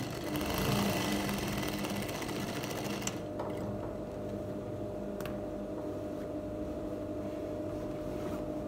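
A sewing machine stitching a palazzo jumpsuit runs in a fast continuous whir for about three seconds, stops abruptly, leaving a quieter steady hum.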